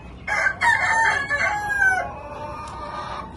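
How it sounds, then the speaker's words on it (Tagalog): A rooster crows loudly nearby, a long drawn-out call, with fainter clucking and calls from other chickens around it at a poultry auction. "Ang daming manok."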